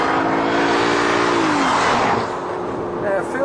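Audi A6 saloon driving on a test track, its engine note rising steadily under acceleration before easing into a steady, loud interior road roar.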